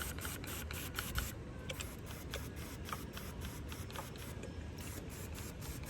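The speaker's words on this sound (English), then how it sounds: "I'm just going to spritz them again" Hand spray bottle misting carrot plants outdoors, a series of quick faint spritzes in an irregular rhythm over a soft rustling background.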